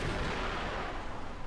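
A brief, dense roaring blast of a missile striking a tree in the War Thunder video game, loud and filling the whole moment without pause.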